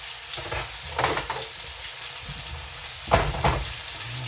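Chicken pieces searing in a hot pan for curry chicken, a steady close sizzle with a few louder bursts of crackling as the pieces shift.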